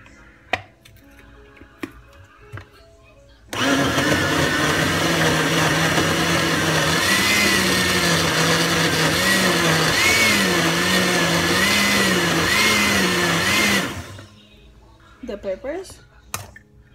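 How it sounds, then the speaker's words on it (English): A kitchen blender grinds Haitian epis, a seasoning base with peppers, in one loud continuous run of about ten seconds whose pitch wavers as the load shifts. Quieter kitchen sounds and a voice come before and after it. "my blender is too small now"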